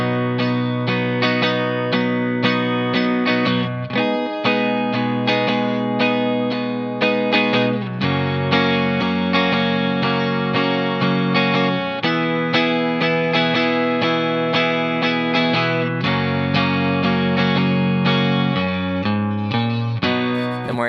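Guitar strumming the pre-chorus of a song, steady rhythmic chords with a bright, effected tone, played alone with no voice.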